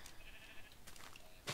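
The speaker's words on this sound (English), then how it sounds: "Where's the other sheep gone?" Faint bleats of sheep in a Minecraft jungle world, a short thin cry followed by another brief bleat at the end, quiet and with no talk over it.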